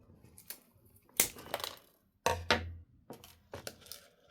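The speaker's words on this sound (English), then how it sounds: "Cut the remainder of the zip tie off." Scissors or cutters snip off the excess end of a plastic zip tie, giving a few sharp clicks and snips with rustling handling noise between them, close and fairly quiet.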